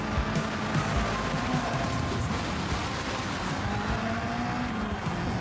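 Car engines in a racing video game, a steady blended drone of revving motors holding at an even loudness throughout, with no talk over it.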